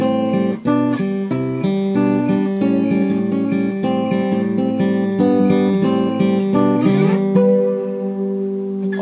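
An acoustic guitar plays a slow sequence of plucked notes and chords from a song, ringing clearly up close, ending on a sustained chord that fades.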